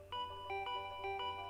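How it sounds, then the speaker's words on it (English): A doorbell rings in the Danganronpa V3 video game, a bright electronic chime that repeats in quick pairs of tones several times at a steady pace, with no talking. "The doorbell's still ringing."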